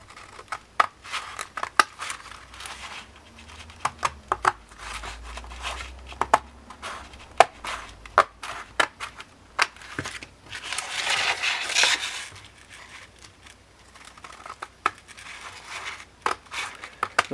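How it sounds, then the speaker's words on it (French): Scissors snip repeatedly through thick folded handmade paper during scrapbooking, each cut a short crisp click with paper rustling and crinkling between strokes, close and fairly quiet with no talk. "on va prendre de bons ciseaux"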